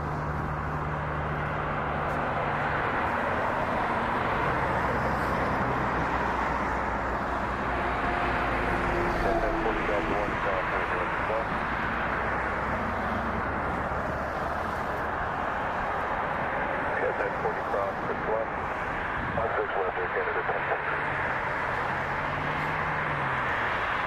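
An Airbus A330 airliner passes at Toronto Pearson Airport, a broad, steady jet roar that swells and holds across the whole stretch, with a low hum beneath and no talking.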